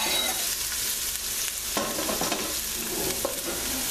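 Vegetables sweating in olive oil in a pan with garlic, a continuous close sizzle broken by a few stirring scrapes and shuffles, moderately loud, no voices.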